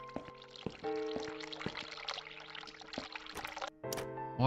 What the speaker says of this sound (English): Water's still running.